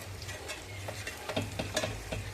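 Pieces of fish being gently turned in a simmering mango fish curry, giving a few soft scraping and bubbling sounds over a low continuous hiss of gentle cooking, with no talk.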